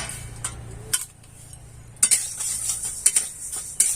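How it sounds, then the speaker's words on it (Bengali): Moong dal is lightly fried in a pan while a utensil stirs it, making scattered scraping strokes and sharp metallic clinks over a low background hum, with no voices. "সামান্য একটু ভেজে"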